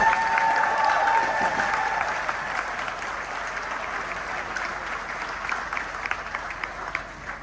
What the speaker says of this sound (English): Can we have another round of applause for Mr.